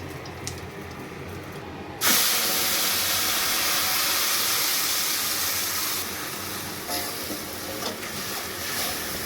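Fish spice paste drops into hot oil already tempered with dried red chillies, bay leaf and cumin seeds. A loud, sudden hiss breaks out and keeps sizzling steadily, easing a little in volume partway through.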